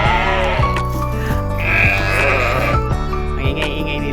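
Sheep bleat loudly and repeatedly on a farm in Riyadh, Saudi Arabia, several animals calling over one another in a steady, close, noisy chorus with no talking.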